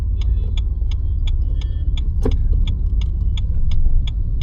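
During a driving lesson, a car pulls away in first gear with a steady low engine rumble inside the cabin and a regular ticking click repeating about every third of a second.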